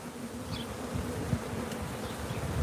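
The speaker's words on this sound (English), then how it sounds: "when we say Africanized honeybees, we're talking about this mutt honeybee, this crossbred honeybee" A swarm of Africanized honeybees buzzing near and steadily, a continuous low droning hum with individual bees passing close, no voices.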